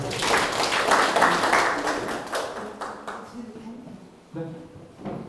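A lecture audience claps for a professor after a talk on the Jeju language, a dense burst of applause that fades away over a few seconds, followed by a brief voice.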